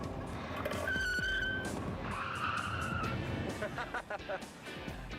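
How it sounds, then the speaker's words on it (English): A car brakes hard and its tires squeal in a long, loud skid, followed by a second shorter screech and clattering motion noise, with brief voices mixed in. "I guess the brakes work."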